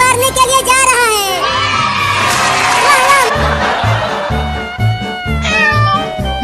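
A kitten meows in a noisy comedy scene, its high wavering cries repeating over loud background music with a thumping beat and shouting voices.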